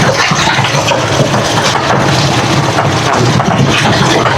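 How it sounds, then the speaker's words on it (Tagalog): Motorcycle-based tricycle engine runs steadily on a steep mountain road during a long solo ride, a loud continuous drone with wind noise and no talking. "Huwag nyo rin papatayin yung makina."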